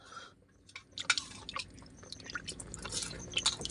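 A dog drinking water makes quick, wet lapping splashes in irregular bursts that grow busier toward the end, close by and fairly soft.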